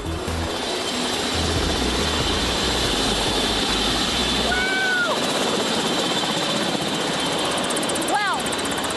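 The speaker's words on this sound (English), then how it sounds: "I've never arrived anywhere by helicopter before" A helicopter roars steadily and close, its heavy rotor and turbine noise filling the whole stretch, with brief whistling tones rising over it.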